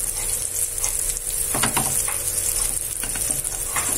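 Sweet potato cutlets deep frying in hot ghee give a steady, close sizzle with soft crackling pops and light spatter, continuous throughout and without any voices.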